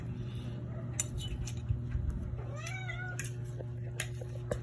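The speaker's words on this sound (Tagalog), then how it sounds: "may makulit po ditong pusa" A cat meows a few times, fairly close, over a steady low hum with faint clinks of dishes in the background.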